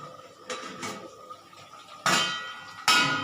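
A metal lid goes onto a cooking pot of potatoes boiling for a spicy fish curry, with a couple of light taps and then two sharp, loud clanks as it settles, close by and without talk.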